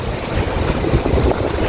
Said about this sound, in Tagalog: Malakas pa alon to.